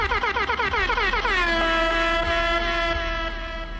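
Air horns blare at a festival concert crowd, several overlapping wavering blasts settling into long held tones over a rumbling, noisy crowd background.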